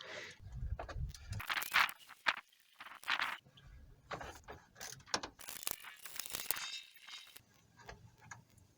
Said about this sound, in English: now I'm going to take the 2 bolts out of this thermostat housing.